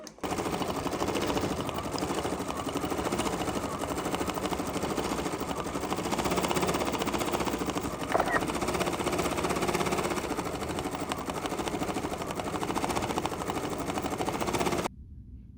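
An embroidery machine stitches micro stippling on a terra cotta sampler block, giving a steady, fast mechanical chatter that runs close and even for about fifteen seconds before stopping.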